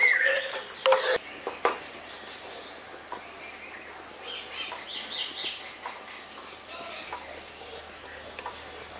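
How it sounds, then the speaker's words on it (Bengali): Coconut milk is stirred into spices in a pan while cooking a coconut katla fish curry, giving a soft, steady scraping and gentle sizzle with a few louder clinks at the start. "মশলাগুলোর সঙ্গে ভালো করে মিশিয়ে দিচ্ছি।"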